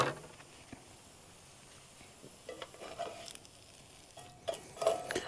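Chicken from a sriracha honey chicken fried rice dish, reheated in a pan at a truck campsite, with a faint steady sizzle and scattered stirring scrapes and clatters that grow a little louder toward the end.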